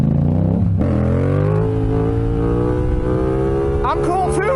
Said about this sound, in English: I'd say that's a race car and a half.